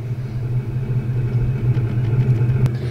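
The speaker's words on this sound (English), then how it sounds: "So it has a lot of car noises if you press this" Simulated engine rumble played through the speaker of a Power Wheels Smart Drive Mustang 12V battery-powered ride-on toy car, a steady low idling drone heard up close with no speech.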